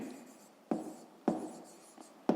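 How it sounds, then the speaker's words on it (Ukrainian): Handwriting of a fifth-grade math exercise on paper: soft pen scratching with a few sharp taps as strokes begin, about four distinct marks spaced irregularly, quiet and close. "Пишемо третє."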